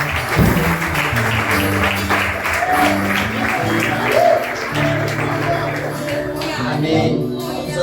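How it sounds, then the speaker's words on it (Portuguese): A church congregation applauds during a Sunday service, with loud clapping running throughout alongside sustained musical tones from a keyboard or organ underneath. "Você pode aplaudir a Ele?"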